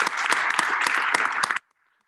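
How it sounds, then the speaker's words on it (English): An audience claps for a visiting Olympic gold medalist speaker, a dense burst of applause for about a second and a half that stops abruptly into near silence. "Let's give her a round of applause."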